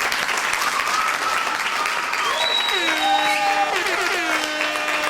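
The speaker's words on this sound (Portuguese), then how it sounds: "Manda colocar na edição umas palmas aí agora." Steady applause fills the whole stretch at an even, fairly loud level, with a few voices and tonal sounds rising over the clapping.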